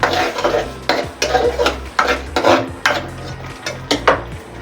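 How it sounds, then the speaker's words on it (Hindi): Masala being fried and stirred in a pan with green chillies and mint for chicken tikka biryani, a loud, steady sizzle broken by repeated scraping strokes of a spoon against the metal, close and alone. "अब इसे सिर्फ 5 मिनट तक भूनेंगे"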